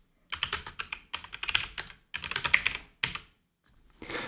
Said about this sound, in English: and then you can type text here.